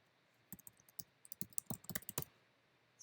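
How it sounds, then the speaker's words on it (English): Keys tapped on a computer keyboard, a quiet burst of quick, uneven clicks close by, clustered in short runs with brief pauses, with no talking. "To create a tile, you just type in here."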